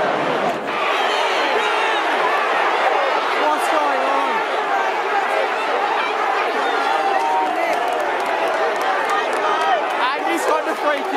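A huge crowd of about 97,000 roars and chatters continuously at the MCG during an AFL elimination final between the Bulldogs and Hawks, a dense, loud wash of cheering and hubbub with no gaps.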